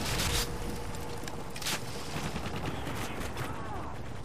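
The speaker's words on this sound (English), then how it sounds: "That was an Osprey gun." Osprey gunner's gunfire in the video game Call of Duty Modern Warfare 3, a dense, continuous barrage of rapid shots and rumbling impacts, loud and sustained throughout.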